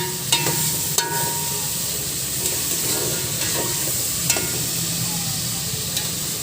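Onion sautés in oil in a pan with a steady loud sizzle and hiss, with occasional clinks of stirring throughout.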